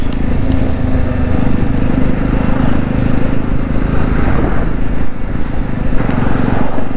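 2024 Jawa 350 motorcycle being ridden, a loud, steady engine drone mixed with heavy wind rush, close and continuous with no break.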